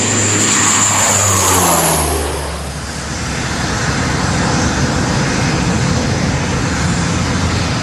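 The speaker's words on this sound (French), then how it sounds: "L'avion, dont nous venons de filmer le contrôle quelques minutes plus tôt, décolle." A Congolese passenger airplane takes off, its loud engine roar sweeping through a falling pitch as it passes close, then settling into a sustained broad rumble as it climbs away.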